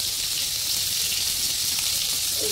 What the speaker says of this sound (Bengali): এই হচ্ছে চিংড়ি মাছ ভাজা